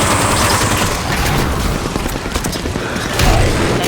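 Sustained gunfire and explosive booms from the video game Halo 5 fill the clip, with dense overlapping shots that ease briefly and then swell again near the end.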